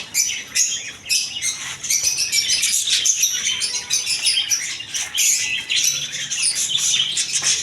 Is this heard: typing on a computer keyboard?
no